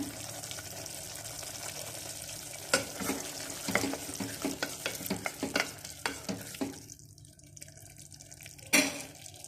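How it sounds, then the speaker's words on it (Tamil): Thick ridge gourd gravy bubbles and sizzles in a pot, with scattered clinks and scrapes of stirring, fairly close and without talk. "இப்போ இன்னும் ஒரு அஞ்சு நிமிஷம் நம்ம அடுப்பு பற்ற வச்சு ஒரு ரெண்டு கொதி விடலாம்"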